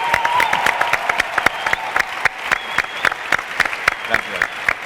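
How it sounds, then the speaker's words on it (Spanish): A crowd at an International Yoga Day gathering claps in a steady, rhythmic unison beat, loud and close, with faint voices beneath. "¡Fuerte aplauso!"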